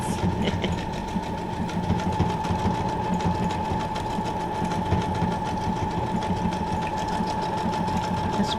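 A sewing machine stitches decorative patterns at a steady fast rhythm. Its close, continuous mechanical chatter holds a constant motor hum throughout, and no one talks over it.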